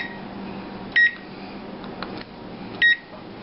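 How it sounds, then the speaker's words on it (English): Two short electronic beeps from a kitchen oven timer, about two seconds apart, sound over a quiet background hum with no one talking. "Okay, the timer just went off."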